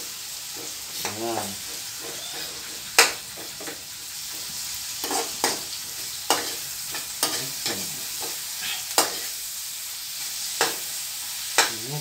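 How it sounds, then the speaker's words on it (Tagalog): Onions fry in a pan under a constant sizzle while a utensil stirs them, scraping and clacking against the pan in repeated sharp strikes. A voice speaks briefly. "Haluin lang natin hanggang sa magkulay brown."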